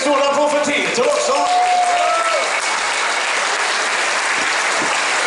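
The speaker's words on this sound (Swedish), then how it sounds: "En stor applåd för Peter också" Steady applause from an audience at an outdoor dansband concert on Packhuskajen during Kulturkalaset, dense and sustained throughout, with a few voices and cheers mixed in near the start.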